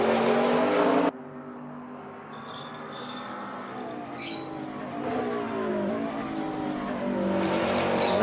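A McLaren 650 race car engine in a racing video game screams and revs up and down through the gears, loud and continuous, with a short squeal of tires.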